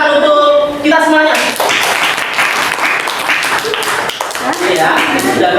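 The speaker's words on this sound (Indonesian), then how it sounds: "Oke, berikan tepuk tangan untuk kita semuanya." A classroom of students clapping together, a loud burst of applause lasting a few seconds, with a teacher's voice speaking just before and after it.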